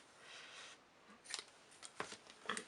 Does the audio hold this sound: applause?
no